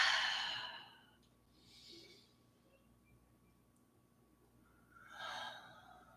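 Deep breathing during a yoga flow: a long, breathy exhale, then a soft, faint inhale, then another audible breath a few seconds later, close to the microphone in a quiet room.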